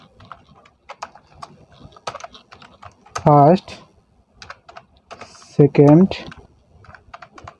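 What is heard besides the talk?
typing on a computer keyboard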